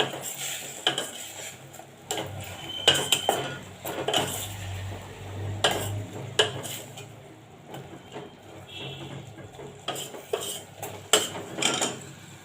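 A spoon stirs spinach dal in a pot, making repeated close metallic scrapes and clinks against the sides in an uneven rhythm, with a soft sizzle underneath and no talk.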